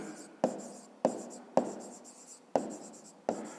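A pen scratches a math solution onto paper in five separate strokes, each starting with a sharp tap and trailing off, close and fairly quiet.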